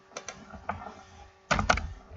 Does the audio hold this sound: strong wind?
no